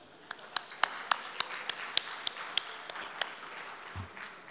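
Slow, evenly spaced claps ring out about a dozen times in a large hall during an awards gathering. Each clap is sharp and distinct, over a quiet murmuring room, and ends with a low thump.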